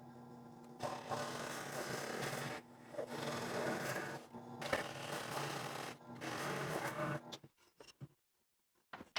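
A scroll saw cuts two-inch holes in a wooden rifle rack, its rapid buzzing blade running in three steady bursts separated by short pauses, close and moderately loud, then fading into a few faint clicks and handling sounds.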